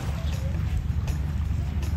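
An island-hopping boat motor in Bohol, Philippines, drones steadily with low rumble and water splashing, close by, with wind buffeting the microphone.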